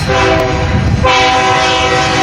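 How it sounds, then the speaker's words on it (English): A train going off the rails in Nebraska, a loud, continuous, harsh roar of blaring horn and grinding metal close by, with a sudden shift in tone about halfway through, no speech. "Here's the audio of him recording a train going off the rails."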